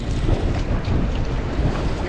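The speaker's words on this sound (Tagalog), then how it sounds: "Malakas yung hangin." Strong wind blowing by a river, a steady loud roar and microphone buffeting with rushing water mixed in, no voices.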